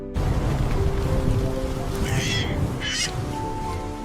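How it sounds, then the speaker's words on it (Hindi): Steady rain falls on a surface outdoors in a forest, a constant close wash with no pause, while birds chirp briefly near the middle. "थोड़ी देर बाद बारिश धीमी हो गई और फिर पूरी तरह से रुक गई।"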